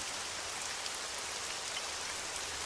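Steady rain hisses evenly across the whole stretch in the survival video game Breaking Point, a dense, constant wash with no talk over it.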